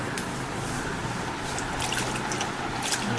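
Water trickles and splashes continuously as children wash their hands during a hand-sanitizing campaign, a close, steady wet patter with small irregular splashes.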